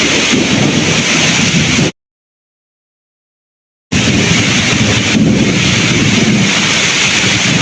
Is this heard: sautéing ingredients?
no